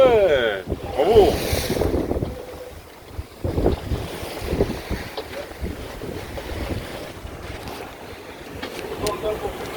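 Wind buffets the microphone aboard a sailboat on a transatlantic crossing, blowing against the boat, with rushing water and gusty noise, and people talking over it.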